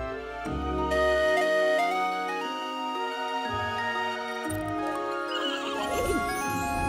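Cartoon sky horses whinny and neigh over a busy musical backdrop in a children's animated show, with shrill calls rising and falling near the start and a jingle toward the end.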